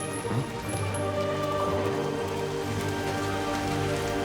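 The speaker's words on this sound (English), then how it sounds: "Rain, nothing but rain." Steady rain pours down in the Chongqing level of Hitman 3, a dense, continuous hiss of drops on surfaces with a low hum beneath, played in PC VR.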